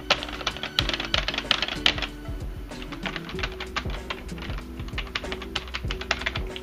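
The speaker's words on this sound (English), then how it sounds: "They have micro switches inside, and just you can hear the difference." Buttons on a custom-modded HRAP 3 arcade stick fitted with Seimitsu buttons containing micro switches, pressed in rapid uneven bursts with sharp, close clicky taps and no talking.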